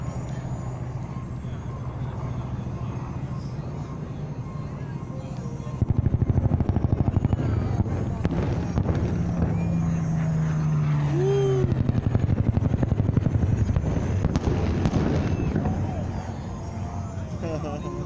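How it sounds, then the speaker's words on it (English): A Spitfire fighter plane flies a strafing run at the Nellis airshow in Las Vegas, its engine swelling loudly from about six seconds and sweeping past with a shifting roar, while a crowd and commentary murmur beneath. "And now the fighters on the strafing run, beginning with the Spitfire."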